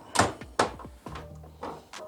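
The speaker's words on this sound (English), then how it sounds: "But then we lift up the door on the front," A plastic front door on a printer is lifted open, giving a series of sharp clicks and clunks with short rattling resonances, close and fairly loud, about four separate knocks over two seconds.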